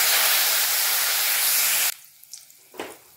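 Cumin seeds and green chilies hit hot oil with a loud close hiss that cuts off abruptly, then a few small clinks and a short sizzle burst follow.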